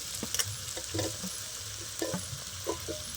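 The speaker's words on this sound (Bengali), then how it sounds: "আলুটা আমি একটু ভাজা ভাজা করে নিয়েছি এবার আমি ভেজে রাখা ফুলকপি দিয়ে দিচ্ছি" Potato and cauliflower stir-frying in a pan, a soft continuous sizzle broken by repeated light scraping and clinking strokes of a spatula at an irregular rhythm.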